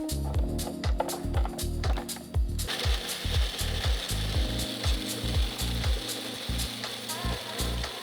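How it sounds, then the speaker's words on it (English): A food processor chops already-toasted almonds, its blades clattering in a rapid repeating rhythm with rattling, grinding bursts, steady and close throughout with no talking. "we're gonna put them in the food processor"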